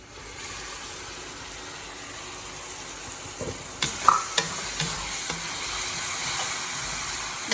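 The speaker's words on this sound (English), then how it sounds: "I will add now the tomato puree in this." Tomato puree being added to cooked vegetables for pasta and stirred in a pan, a steady sizzle and hiss with a few scraping stirs and knocks in the middle, close and continuous.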